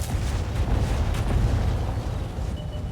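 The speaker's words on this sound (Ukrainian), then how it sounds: "Арта! Ухиляйся! Він на нас націлився!" Artillery shells burst in World of Tanks, a continuous, loud barrage of deep booms and rumbling blasts that fill the whole stretch with no pause.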